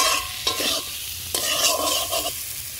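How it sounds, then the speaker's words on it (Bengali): Spice paste with water being stirred and fried in a pan for a Bengali magur fish curry: scraping spoon strokes in short bursts over a continuous close sizzle, no talking. "মশলাটা যাতে পুড়ে না যায় তার জন্য একটু জল দিয়ে একটু কষে নিচ্ছি।"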